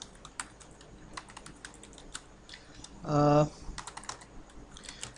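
Computer keyboard typing while writing C# camera-follow code for an airplane simulator game, with quick, uneven clusters of close, crisp key clicks throughout and a short tonal beep-like burst partway through.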